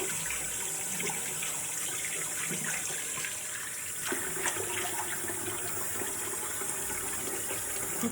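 Tap water running steadily while shampoo is rinsed out of hair, a continuous close splashing gush with no voices.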